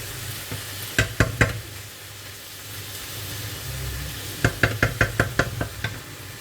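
Potatoes being stirred into cooked minced meat and onions in a pan, with a soft background sizzle and two bursts of sharp spoon knocks and scrapes against the pan, close.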